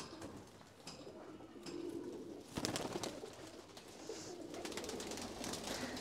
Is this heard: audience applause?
no